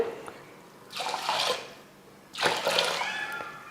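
Water splashes and pours into rice and lentils in two separate bursts, each lasting about a second, with quiet pauses between and no voices.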